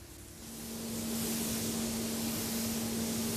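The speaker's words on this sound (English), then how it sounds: "3M dry sanding speeds up the process" A 3M machine sander dry-sanding primer on car paintwork, a steady broadband whirring hiss that builds over the first second and then holds level, close and continuous with a faint tonal hum underneath.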